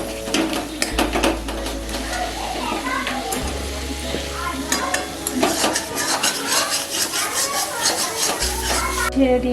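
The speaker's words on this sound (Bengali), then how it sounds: "মশলাগুলো কষানো হয়ে গেছে" Spice masala for a daler bora jhol, a lentil fritter curry, is sautéed in a pan with a gentle sizzle, busy spatula scraping and metallic clinks over a low background hum.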